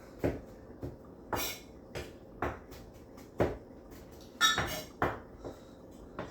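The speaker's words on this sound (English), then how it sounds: "I'm cutting my cilantro because I like to add a little bit of that" A knife chops cilantro on a cutting board in a home kitchen, making sharp, irregular knocks and thuds, some louder than others, with no voices.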